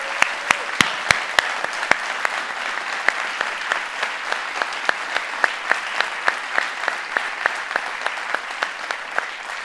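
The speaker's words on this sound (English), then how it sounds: "Can we please give a hearty round of applause to all of those sponsors?" Summit audience applauding the event sponsors, steady clapping from a sizable crowd with several sharp individual claps standing out, fairly near and continuing throughout without speech.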